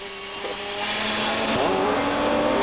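A car is driven hard around a racing circuit in the wrong direction, its engine roaring and rising in pitch as it accelerates, loud and close, with brief tyre noise and no voices.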